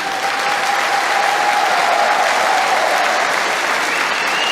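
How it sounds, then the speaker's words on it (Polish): Sustained, dense applause from a large crowd at a farmers' gathering, steady and loud throughout without a break. "Bo jest za co bić brawo"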